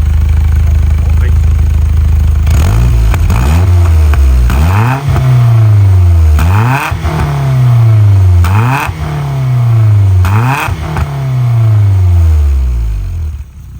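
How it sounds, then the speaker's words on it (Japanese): Nissan Silvia S15 with an SR20DET engine, exhaust muffler revved repeatedly from a steady idle, each blip rising sharply and falling back, five or six rhythmic revs close by, loud and clear with faint talk in the background. "マフラーの音も聞きますか？"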